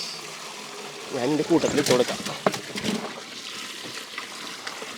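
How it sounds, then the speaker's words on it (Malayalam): Running water splashes and pours while vegetables are washed for a giant pizza, a fairly close gushing stream with a burst of bubbling in the middle as people talk over it. "അപ്പോൾ നല്ലോണം കഴുകി എടുക്കണം കേട്ടോ. അപ്പോൾ വെള്ളം പോരട്ടെ മോനെ."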